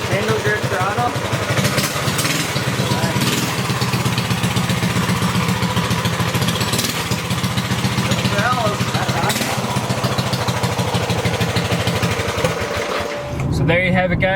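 A pocket bike engine fitted with a Yoshimura exhaust runs close up, a loud, continuous buzzing drone that pulses steadily throughout before briefly dipping at the end.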